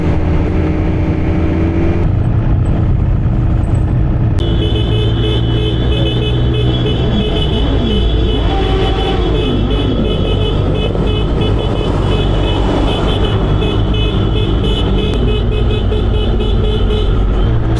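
A long convoy of motorcycles riding through a valley road, engines droning loudly and continuously close by, with horn toots and rising and falling revs as bikes pass.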